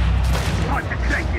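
Gunfire from the video game Uncharted 4 in a survival mission, a quick burst of loud shots followed by softer game sounds. Players talk over it.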